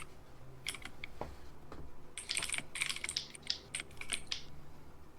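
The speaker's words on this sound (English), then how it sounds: "Stop hitting those keys." Someone types on a computer keyboard close by, with a scattered run of key clicks that quickens into a dense clattering flurry toward the end. No one speaks.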